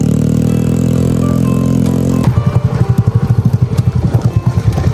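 A motorcycle with no brakes rolls down a steep forest track in Central Sulawesi, its engine first droning steadily, then giving way to loud, rapid rhythmic thumping and rattling up close.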